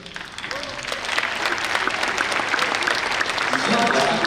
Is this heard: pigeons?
no